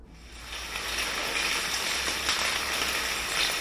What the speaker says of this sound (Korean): 빗소리 들려드릴게요.